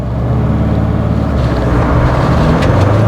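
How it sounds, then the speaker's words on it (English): Mahindra Scorpio Classic accelerating hard in first gear with wheel spin, a loud continuous engine drone and road rumble heard from inside the cabin with no speech. "That was a whole lot of wheel spin and torque steer."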